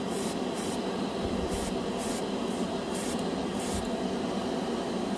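Airbrush spraying Vallejo Air paint onto a plastic scale model, a steady close hiss of air and paint running without a break, with faint pulses where the spray is triggered.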